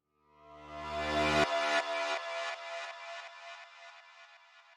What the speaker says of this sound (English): pair it with another creepy sound like this little swell I have here